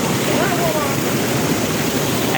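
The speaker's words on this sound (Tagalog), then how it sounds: "Ayan yung Hulugan Falls guys" Hulugan Falls, a waterfall in Laguna, gives a steady, close, full-bodied rush of falling water that holds at an even level throughout with no pauses.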